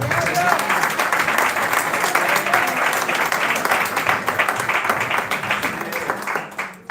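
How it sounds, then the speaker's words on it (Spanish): A church congregation breaks into sustained applause, a dense wash of many hands clapping steadily at close range, with a few voices mixed in before it tapers off at the end. "Un aplauso para Cristo."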